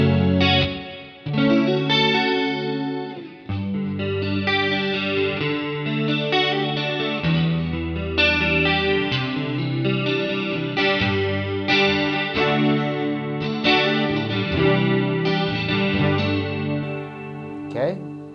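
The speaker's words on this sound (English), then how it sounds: "let's check out chorus" An electric guitar played through an IK Multimedia Tonex One with the chorus effect on, depth turned up, gives shimmering, wavering chords and picked notes that ring continuously for the whole stretch.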